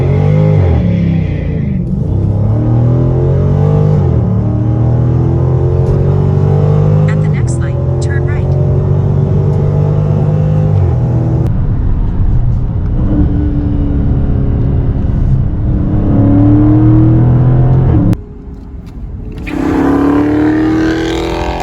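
A Dodge Charger 392 with its 6.4-liter V8 on 245-section all-season tires roars loudly and steadily, pitch climbing and dropping through repeated revs, with a brief lift near the end before the engine pulls hard again.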